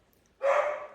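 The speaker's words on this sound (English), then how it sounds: "Those are my dogs." Several dogs barking together nearby in a home, a single loud burst of barks that starts abruptly and carries on briefly.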